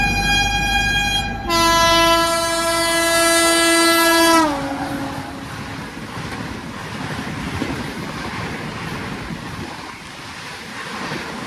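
A loud Rajdhani express train horn blares in a long, sustained two-tone blast with a falling pitch as it overtakes, then gives way to continuous rushing rail and wheel noise from passing coaches.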